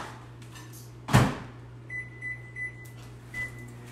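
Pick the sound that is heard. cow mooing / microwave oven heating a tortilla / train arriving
microwave oven heating a tortilla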